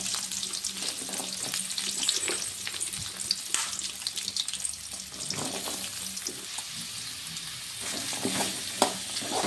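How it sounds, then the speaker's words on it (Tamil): Steady sizzling of small shallots frying in hot oil, with intermittent scraping and clinks of a spoon stirring the pan, no voices. "சின்ன வெங்காயம் நல்லா கண்ணாடி பதம் வர வரைக்கும் வதக்கி விடுங்க."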